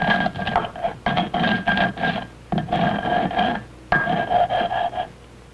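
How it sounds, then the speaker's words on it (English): Dried corn kernels ground with a hand-held mano on a stone metate, a repeated rasping rub in rhythmic bursts of strokes with brief pauses between, fairly close and steady. "The dried kernels are rubbed again and again between the mano and the metate until a fine"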